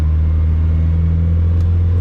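A car's engine pulling hard in fifth gear on a drag strip, a loud, steady droning rumble with strong low tones held constant, close and without any talking.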